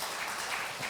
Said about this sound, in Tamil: அவங்களுக்கு ஒரு பெரிய கைத்தட்டல் நம்ம கொடுத்தே ஆகணும்.